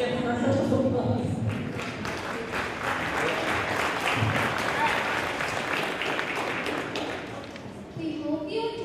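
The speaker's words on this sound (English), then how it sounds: "Let's give her a round of applause." Sustained audience applause at a Horace Mann school spring concert, dense and steady for several seconds before tapering off near the end.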